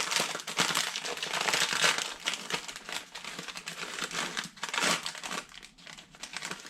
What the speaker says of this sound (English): And then I have the bag of stuffing mix.